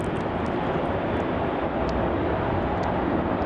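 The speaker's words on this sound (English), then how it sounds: "This is Jetstar 43 going off to Denpasar, one of the few heavy aircraft that fly the route at the moment." A heavy Jetstar airliner departs Melbourne Airport bound for Denpasar, its engines producing a loud, steady broadband roar that persists without letup, with no talking.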